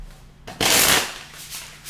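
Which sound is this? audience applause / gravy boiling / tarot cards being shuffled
tarot cards being shuffled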